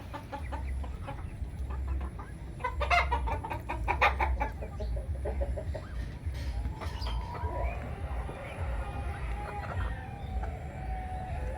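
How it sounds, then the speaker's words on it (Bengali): Native and farm-raised chickens cluck steadily in a poultry farm, many birds calling in overlapping bursts at a moderate distance over a low background rumble, with a crow-like call among them. "দেশি মুরগি আছে, ফার্মি মুরগি আছে।"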